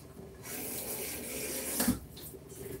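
Running tap water pours steadily into a kitchen sink as peeled green bananas are rinsed, a continuous close splashing stream with a brief louder splash near the end.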